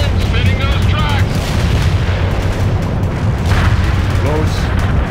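Gunfire from a Bradley armored vehicle with its tracks spinning in the World in Conflict Seattle invasion battle: dense, loud, rapid bursts and booms rolling continuously, with a voice talking over the barrage.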